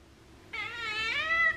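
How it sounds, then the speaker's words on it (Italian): A house cat gives one drawn-out, rising and falling meow, close and clear, as it begs for soft wet food, over a quiet room hum. "Io lo so che vuoi la pappa morbida, ma non è ancora ora, gatto Denver."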